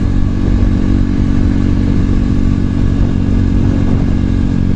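A KTM RC390 sport motorcycle fitted with a Power Commander V piggyback ECU accelerates hard, its engine note loud, close and continuous with a steady, dense drone and no voices.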